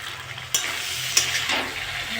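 Tilapia sautéing in a pan with cumin, coriander powder, salt and chopped tomato, giving a steady close sizzle and fry with two sharp scraping stir accents along the way.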